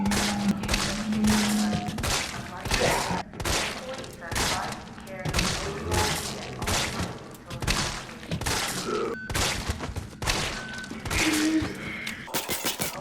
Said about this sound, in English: it took 15 shots to defeat a zombie with the Infinite MUP Handgun